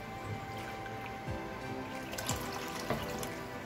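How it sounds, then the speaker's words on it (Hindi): Water poured into a pot holding leftover sugar syrup for rasgulla, a faint steady splashing trickle in a home kitchen, with a few soft clinks. "इसमें 2 कप पानी हम और डालेंगे"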